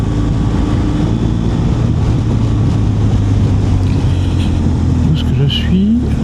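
BMW R1200GSA motorcycle engine droning steadily while riding on a hot road in the Ardennes, a loud constant low rumble mixed with heavy wind rush, no pauses.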